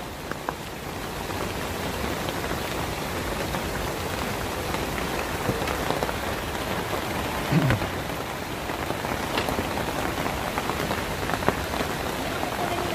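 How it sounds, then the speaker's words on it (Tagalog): Heavy rain pours at Bunga Falls in Nagcarlan, Laguna: a dense, steady roar of drops hitting surfaces, loud and unbroken throughout, with occasional sharper splashes. "Ang lakas ng ulan."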